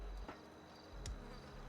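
A queen bee buzzes faintly in a video game, a low insect drone with a couple of brief sharper buzzes over a quiet background, without any talking.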